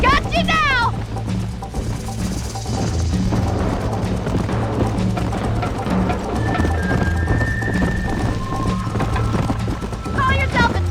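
A horse gallops in the video game Red Dead Redemption, with rapid rhythmic hoofbeats, a whinny and game music throughout, loud and close, while a voice speaks over it.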